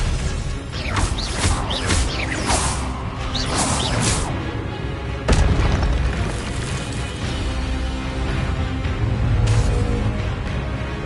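Spell-casting effects from the Hogwarts Legacy video game, a dense run of loud magical whooshes, bursts and booming impacts one after another, with a heavy crash around the middle and more blasts near the end.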